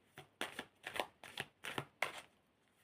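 A deck of tarot cards is shuffled in a steady rhythm of about five soft, riffling bursts, close and quiet with brief pauses between them.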